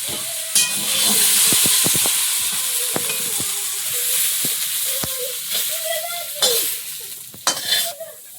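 Fish fries in hot oil in a wok, giving a loud, continuous sizzle broken by sharp spattering pops and stirring knocks.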